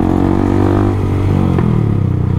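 A motorcycle's loud aftermarket exhaust roars up close during a group ride, its deep drone rising and falling as the throttle is blipped, alone without speech.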